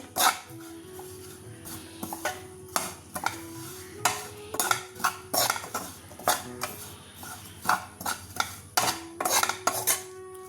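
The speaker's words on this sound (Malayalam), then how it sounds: "എന്നിട്ട് നമുക്ക് ഇളക്കി കൊടുക്കാം നന്നായിട്ട്" Spices for a Kerala prawn theeyal stirred with a metal spoon in a pan, giving repeated sharp scrapes and clinks against the metal, close and clear with brief pauses between strokes.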